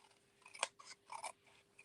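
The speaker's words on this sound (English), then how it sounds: "I'm going to grab my scissors and I am going to turn this over and I'm going to cut these off" Scissors snip through craft paper shapes in a few quick, crisp cuts, close and quiet, with no talking.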